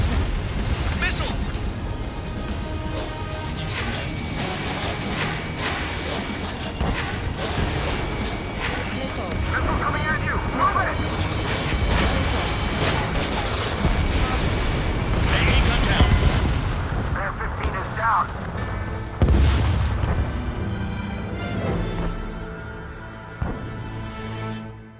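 Jet fighter combat in the Ace Combat 7 video game, flown in an F-14, with a constant loud roar of engines, machine-gun bursts, booms and explosions, and voices talking over the action.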